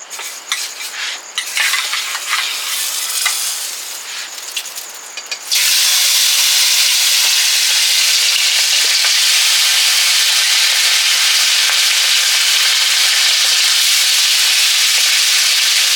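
Fish, a snakehead catch, sizzling as it fries in hot oil in a pan, a loud steady hiss that swells after a few seconds of quieter clatter and stirring.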